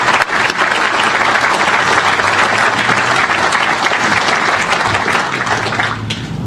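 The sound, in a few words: audience applause at groundbreaking ceremony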